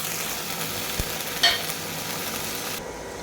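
Almond paste and ginger paste hit browned onions in a hot pan, giving a steady, even sizzle throughout with a brief clatter of stirring near the middle before it fades out.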